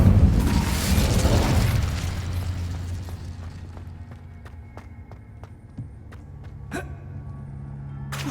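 Incendio fire spell blast in Hogwarts Legacy: a loud roaring whoosh bursts out at the start and fades over about two seconds into quieter ambience, with small ticks and a short crack near the end.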